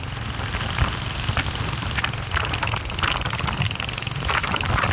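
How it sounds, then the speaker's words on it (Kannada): Steady rain falls continuously, a dense hiss of drops pattering on surfaces close by, with no voices. "ಮಳೆ ಅಂತೂ ನಿಲ್ಲೇ ಇಲ್ಲ"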